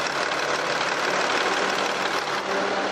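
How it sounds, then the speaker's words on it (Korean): A diesel SUV engine idles steadily up close, with a continuous, dense clatter and no change in pace. "엔진 소음 먼저 들려드리면은"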